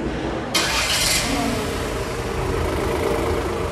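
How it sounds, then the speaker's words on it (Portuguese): A Fiat Fastback Audace 2023 turbo engine starts by remote start with a sharp crank burst, then settles into a steady close idle hum. "E o Fiat Fastback está em funcionamento."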